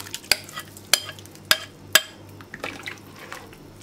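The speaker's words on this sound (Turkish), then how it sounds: "Kaynayana kadar sürekli karıştıracağım." A spoon stirs spinach yogurt soup in a pot over high heat, with four sharp clinks against the pot followed by softer scraping and a faint bubbling, close and quiet.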